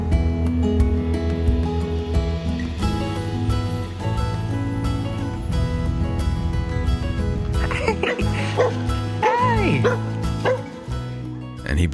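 Hickory, a pup, gives a few yips and whimpering barks over a steady bed of music, with the dog's cries clearest toward the end.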